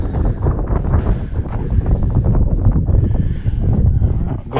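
Strong, steady wind buffets the microphone on an autumn mountain summit, a loud continuous low roar with gusty fluctuations throughout and no talking.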